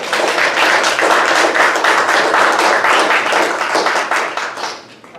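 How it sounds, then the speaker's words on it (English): A crowd applauds loudly and steadily, then the clapping fades away near the end. "let's give them a warm round of applause"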